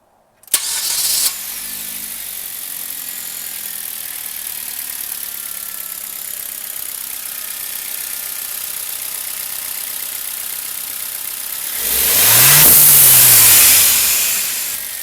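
A Hyundai Genesis Coupe fitted with a Forge blow off valve cranks and fires, settles into a steady idle, then revs up with a swelling roar that falls away with a sharp venting hiss.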